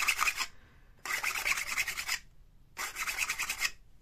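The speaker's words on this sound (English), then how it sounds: "I'm just going to give this a quick sand down the side" Sanding strokes along the side of a handmade shoto lightsaber hilt: three bursts of close, raspy back-and-forth rubbing separated by short pauses, no voices.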